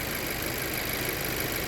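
A 2020 Honda Accord engine idling smoothly after running for a few minutes, a steady, even hum at constant level, heard close and alone without speech.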